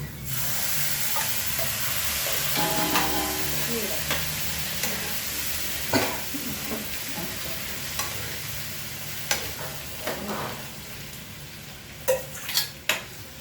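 Dehusked moth beans dropped into a hot pan for a Maharashtrian usal, giving a steady sizzle under repeated scraping and stirring with a metal spoon, with sharper clinks of utensil against pan toward the end.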